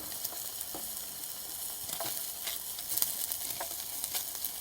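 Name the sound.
stir-frying green onion and onion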